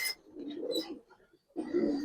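Female Giribaz pigeons coo faintly nearby in two low, throaty bursts separated by a short pause.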